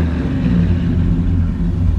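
A 1950 Plymouth Suburban two-door wagon's engine revs up close by, a steady loud low rumble filling the whole moment with no voices.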